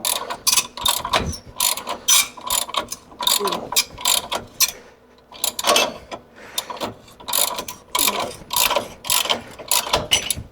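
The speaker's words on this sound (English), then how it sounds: "I think that's the pulley coming off actually" A pulley is pried off during an LSA supercharger install on a square body truck, heard as repeated ratcheting clicks and sharp mechanical pops in irregular bursts, close and loud with brief pauses between efforts.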